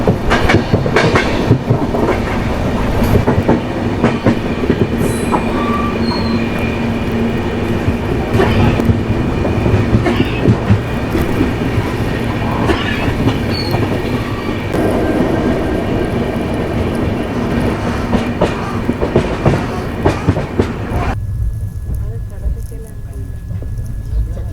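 Garib Rath passenger train running from Coimbatore to Bengaluru, heard from inside as a steady loud rumble with clickety-clack of wheels over rail joints throughout, with voices in the background.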